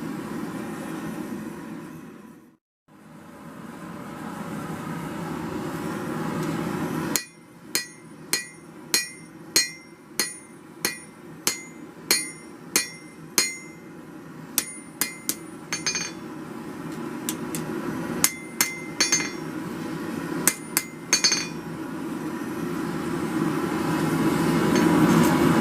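Hammer blows shaping hot metal on an anvil at a forge, flattening a bulge near the edge of the piece: a long run of sharp, ringing metallic strikes in an irregular rhythm, close and loud over steady background noise.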